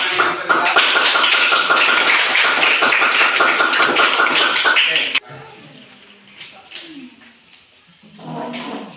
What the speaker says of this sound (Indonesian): Ada lagi tepuk tangan yang sebentar.